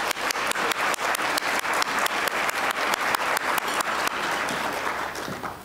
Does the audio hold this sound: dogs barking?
no